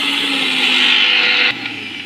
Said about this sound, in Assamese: বিলাহীখিনিও মই মিহি মিক্সিত দি ল'ম